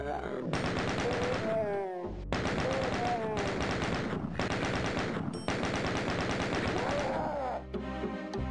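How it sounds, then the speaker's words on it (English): Doom II chaingun fires in long rapid bursts of sharp, evenly spaced shots, broken by brief pauses, with a voice talking over parts of the firing. "Chain gun gang!"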